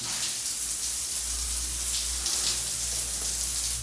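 Water runs from a tap in a lodge room in Dar es Salaam as a steady, close gushing hiss that stops abruptly at the end, with no voices.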